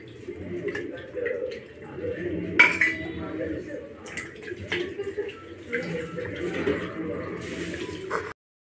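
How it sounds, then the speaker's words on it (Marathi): Black pomfret fish pieces being rinsed in water, with chinks and clinks of the pieces against a steel vessel and splashing throughout, a voice speaking over the washing. "आता मी मच्छी स्वच्छ धुवून घेते"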